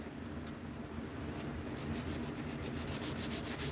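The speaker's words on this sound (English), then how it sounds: "You sand like the wind." A knife blade being sanded by hand, a quiet, steady rasping rub that turns into rapid rhythmic back-and-forth strokes in the second half, with no voices.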